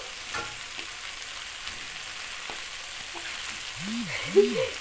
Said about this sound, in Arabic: هبتدي انزل بصوابع السجق بتاعتي.